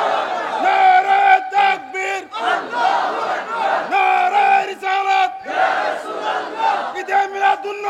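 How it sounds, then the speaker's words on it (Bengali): A large crowd at a gathering chants a slogan in unison, loud and close, in repeated rhythmic bursts with brief pauses between shouts. "একটা স্লোগান দেন।"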